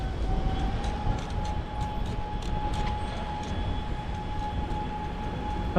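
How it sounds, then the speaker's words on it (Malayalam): A train at a Belgian railway station gives off a steady rumble, with a sustained tonal whine running through it and a few faint clicks and clatters on top. "ഈ കാണുന്നതാണ് റെയിൽവേ സ്റ്റേഷൻ"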